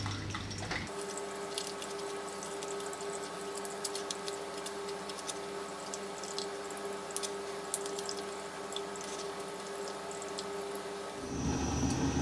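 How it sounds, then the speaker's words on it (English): Running water from a tap splashes steadily over a cooking pan being washed after making chicken curry masala, a continuous close hiss lasting most of the time with small clinks, then cutting off near the end. "Okay, so I've just cleaned the pan again."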